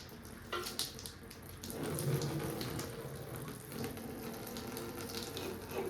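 Water from a garden hose gushes and splashes as it is flushed through the rusty water jackets of a modified 351 engine pulled from a 1978 Ford, a steady close running flow that swells louder partway through.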